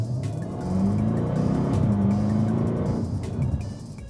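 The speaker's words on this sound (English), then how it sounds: "The 575 stallions under the hood make a lot of noise." A 2018 Jaguar F-Type SVR with a 575-horsepower V8 revs and pulls hard, its engine and exhaust booming deep and close, with a couple of sharp crackles near the end.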